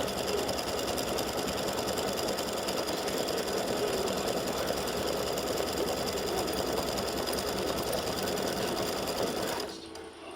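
An embroidery machine sews satin stitching on free-standing lace beer mug earrings, a fast steady mechanical chatter running loud and close without pause until it cuts off just before the end.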